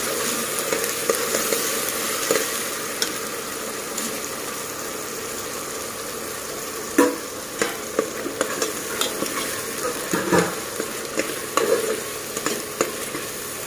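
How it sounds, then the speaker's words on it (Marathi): Ground masala paste frying in oil for an Agri-style vajadi dish, a loud, continuous close sizzle with occasional stirring scrapes and clinks over it. "त्याला सुद्धा आपल्याला व्यवस्थित भाजून घ्यायचं आहे सुद्धा तेलामध्ये मस्त व्यवस्थित फ्राय करून घ्यायचं आहे"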